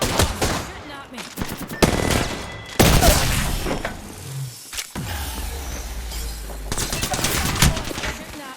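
Gunfire in the Apex Legends battle royale game: rapid automatic bursts and fusillades with thumping impacts, loud and close, separated by brief pauses and heavy booms, the shooting continuing throughout.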